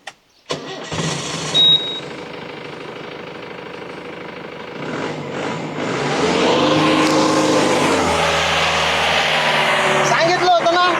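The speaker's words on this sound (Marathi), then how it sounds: "मी गाडी चालू करीन" A vehicle engine cranks and catches, rising into a steady running rumble that grows louder and holds; voices are heard briefly early on.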